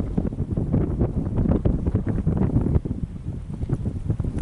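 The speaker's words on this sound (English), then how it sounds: "when it's windy like this, it is even worse" Strong gusting wind roars and buffets the microphone at a wildfire in Cyprus, a loud continuous rumble that eases slightly toward the end, with no voices.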